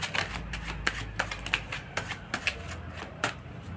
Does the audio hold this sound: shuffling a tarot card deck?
yes